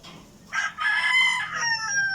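A chicken being treated for coryza, an eye infection with discharge, crows once nearby, a short strained cock-a-doodle-doo heard clearly alone.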